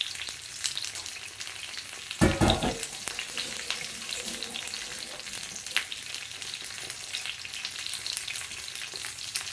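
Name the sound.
alu vadi (colocasia leaf rolls) frying in splattering oil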